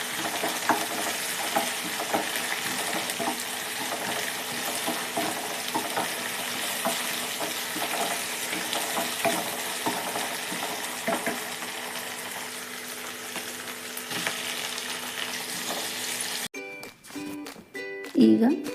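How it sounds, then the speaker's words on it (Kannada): Green chillies and ginger garlic paste fry in a pan with a continuous close sizzle and frequent spoon stirring, then a brief burst of running tap water and clattering near the end. "ಈಗ ಹಸಿ ಸ್ಮೆಲ್ ಹೋಗೋವರೆಗೂ ಚೆನ್ನಾಗಿ ಫ್ರೈ ಮಾಡ್ಕೊಳ್ಳೋಣ."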